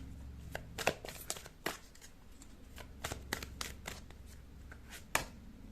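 Tarot cards being shuffled for a card reading, a quiet run of crisp riffling and flicking bursts in an irregular rhythm, close to the ear, with no voices.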